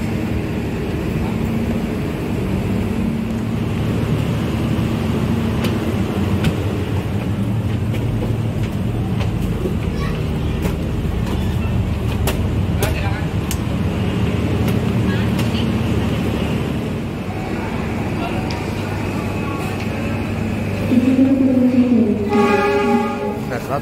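Kertanegara passenger train pulling into Purwokerto station, a steady low rumble of wheels and engine throughout with rising squeals of brakes near the end as it slows.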